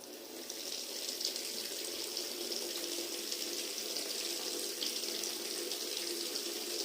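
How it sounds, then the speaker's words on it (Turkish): Warm water running from a tap into a container, ready for cleaning sports and leather shoes, a steady close splashing stream lasting about seven seconds, with no talk. "Ben şimdi hemen ılık suyumu bir içine alayım."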